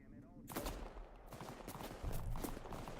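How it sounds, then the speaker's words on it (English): Muffled mortar and gunfire from the Arma 3 video game thump and crackle in a dense volley of repeated blasts, moderately distant and quiet overall, with voices talking underneath. "Oh, that's a mortar."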